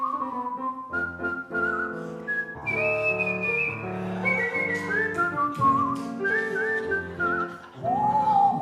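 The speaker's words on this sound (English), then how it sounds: "he can whistle anything" A man whistles a melodic tune, clear and close, with sustained pitched notes gliding between phrases over a soft accompanying chordal backing, and no talking.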